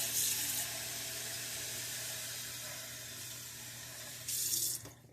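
Cold tap water runs steadily into a pot, making a constant close rushing hiss that swells briefly near the end before stopping.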